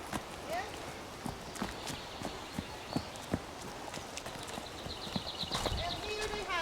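Horse hooves clip-clop at a walk in an ancient Viking village at Ekehagen, Sweden, with scattered close steps and people talking nearby.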